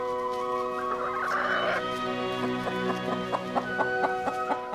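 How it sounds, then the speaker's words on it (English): A chicken in a corn maze clucks several times in a short, uneven run, fairly close and clear over a steady outdoor background with no talking. "I'm gonna try to race that chicken."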